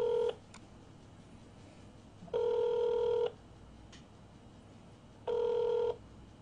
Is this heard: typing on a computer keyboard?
no